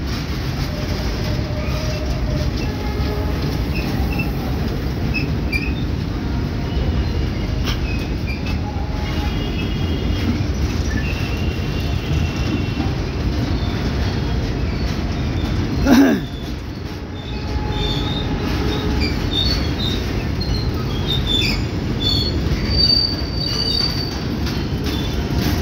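A long coupled Anaconda freight train hauled by a WDG4D diesel locomotive rolls steadily along the rails in India with a continuous low rumble and rattle, a brief louder clank partway through, then faint squeals above the drone.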